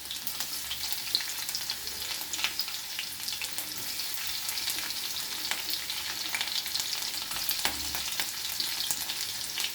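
Garlic fries in a pan with a continuous, dense crackling sizzle, broken by faint stirring scrapes now and then.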